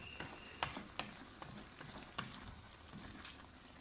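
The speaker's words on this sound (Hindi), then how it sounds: "अब इसको हमने इसी तरह फ्राई करना है।" Greens and round gourd (tinda) fry in a pan, a soft, steady sizzle punctuated by several sharp clicks and scrapes of stirring.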